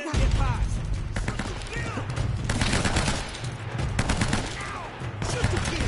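Enemy gunfire rattles in Uncharted: Drake's Fortune, with dense bursts of rapid shots and crackling impacts filling the whole stretch, while game characters shout over the shooting.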